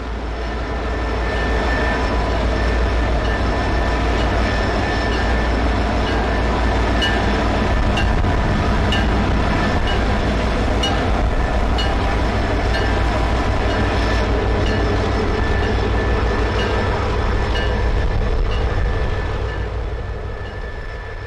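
A BNSF freight train passes at Galesburg with a steady loud rumble, rolling wheel noise and faint squeals, continuous for the whole stretch before easing slightly at the end.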